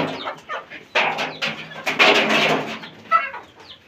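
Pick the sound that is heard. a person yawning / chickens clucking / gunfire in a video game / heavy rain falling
chickens clucking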